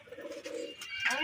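Pet pigeons kept for hand-flying coo briefly up close, a couple of low warbling notes followed by a faint higher chirp.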